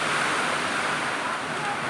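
Steady, dense rush of strong typhoon wind, loud and unbroken, like a storm blowing across open ground, with fairly heavy rain.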